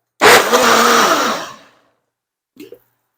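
A blender grinds a sauce of ingredients with about a litre of water and a quarter lemon, a loud steady whir for over a second that winds down, followed by a brief faint clunk.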